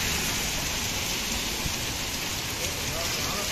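Dense, steady hiss of heavy rain mixed with hail pelting surfaces outdoors, continuous and loud with no pause.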